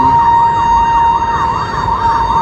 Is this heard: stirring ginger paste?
no